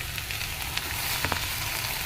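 Spinach and meal maker soya chunks fry in hot oil in a home kitchen, giving a steady, close sizzle with a few faint pops and stirring scrapes over a brief stretch.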